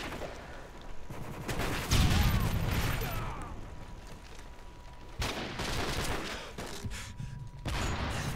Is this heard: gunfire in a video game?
yes